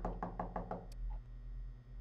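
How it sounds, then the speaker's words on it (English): Video game knocking on a restaurant door: five quick, evenly spaced knocks, clear and moderately close, followed by quiet hum. "That's knocking."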